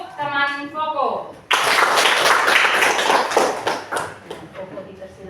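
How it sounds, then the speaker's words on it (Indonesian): A voice speaks briefly in a classroom, then students burst into a few seconds of lively clapping for a classmate that fades toward the end. "Tepuk tangan untuk teman Koko."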